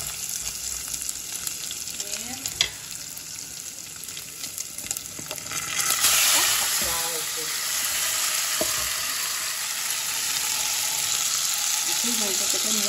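Bacon and golden garlic fry in a pan with a steady sizzle that swells louder about halfway through, crackling close up while someone talks at intervals.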